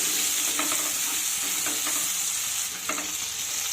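Brinjal pieces frying in a pan on medium heat, a continuous moderate sizzle with a few soft spatula stirring strokes, no voices.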